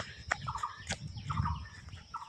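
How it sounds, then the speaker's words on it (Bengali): Birds call among trees in a rural Bangladeshi setting, short chirps and clucking notes repeating every half second or so, fairly faint and with no talking. "পাখির কলরব, ঝিকিঝিকি শব্দ, গাছগাছালি"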